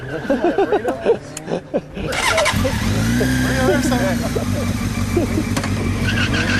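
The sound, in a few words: motorcycle engine revving while doing burnouts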